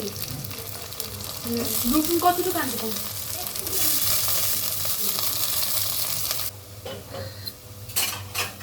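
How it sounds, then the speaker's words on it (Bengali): Onions and onion greens frying in hot oil in a pan for a fish and vegetable curry, a loud, steady sizzle with some stirring that drops abruptly to a quieter crackle near the end. "পেঁয়াজ পাতা দিয়ে দিলাম"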